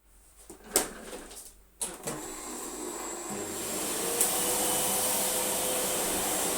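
A vacuum cleaner runs over a rug, starting with a few thumps and bumps, then settling into a steady, fairly close whirring drone that holds to the end.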